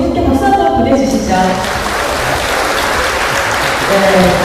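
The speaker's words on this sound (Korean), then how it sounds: "두 분께 박수 한번 보내주시죠." An audience at a Korean education talk event breaks into steady, full applause that fills the room, continuing evenly throughout, with a voice audible early on.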